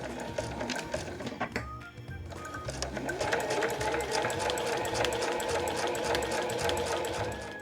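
A sewing machine stitches a one-centimetre seam across a small patchwork fabric coaster, running in a steady close rapid whir and chatter that starts after a brief pause and continues to the end.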